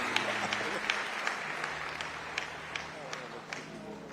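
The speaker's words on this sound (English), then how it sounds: "I'll give another great round of applause for my mentor, the Reverend Al Sharpton" A funeral congregation in a Baptist church applauding, a thin, steady patter of clapping with a few sharper claps standing out, heard at a distance and moderately quiet throughout.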